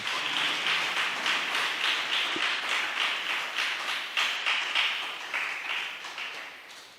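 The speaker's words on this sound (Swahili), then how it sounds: "Ebu mpe makofi mazuri jameni." Audience applause at the Rise and Shine youth conference, a dense sustained wash of many hands clapping, steady and fairly loud across the whole stretch, with no speech over it.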